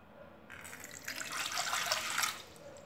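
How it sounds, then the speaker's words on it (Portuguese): Water from a tap pours into a dark cooking pan, starting abruptly and splashing steadily for about two seconds, close and moderately loud. "Eu vou colocar um pouquinho de água aqui."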